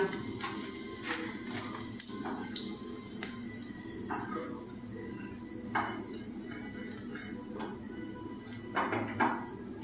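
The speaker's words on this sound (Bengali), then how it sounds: "এবার একটু গোটা জিরে দিয়ে দিলাম।" Whole cumin seeds hit hot oil and give a continuous, close sizzle, with scattered sharp clinks of a utensil against the pan throughout.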